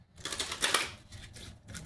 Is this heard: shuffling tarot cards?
yes